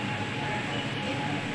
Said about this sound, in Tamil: இவ்வளோ வேகமாக என்ட்ராகுது ட்ரெயின்.